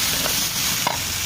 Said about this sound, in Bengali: এখন আমি একটু নেড়ে চেড়ে নিব।